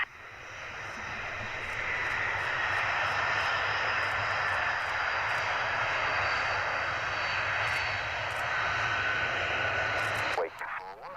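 An airplane's engine roars during takeoff on runway 24, a loud, steady drone that builds early, holds strong and then cuts off abruptly near the end.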